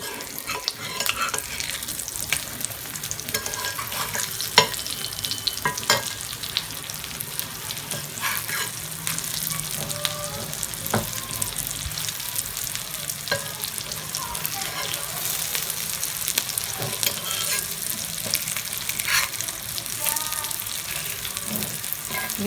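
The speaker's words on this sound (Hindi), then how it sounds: "हमारे कबाब कितनी अच्छी तरह से फ्राई हो रहे हैं।" Vegetable kebabs frying in a pan over a medium flame give a continuous close sizzle and crackle with scattered sharp pops, steady from start to finish.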